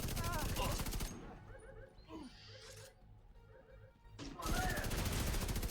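Bursts of rapid light machine gun fire in the video game The Division 2, with a loud sustained volley at the start, a quieter stretch of game sounds and a faint voice, then another loud continuous burst.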